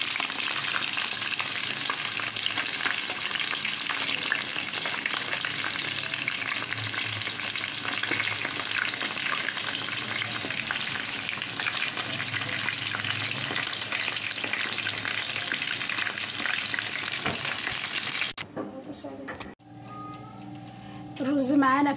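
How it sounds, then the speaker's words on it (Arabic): Food fries in hot oil and ghee with a loud, continuous sizzle and occasional stirring scrapes, then the sizzle cuts off near the end, leaving quieter clinks. "نحمره بقى معانا بالزيت سخن، او معلقتين من السمنه ومعلقتين من الزيت"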